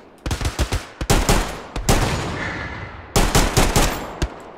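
Gunfire in the World War II shooter Hell Let Loose, loud rapid bursts of sharp shots in quick clusters, pausing briefly between volleys before another string of close cracks.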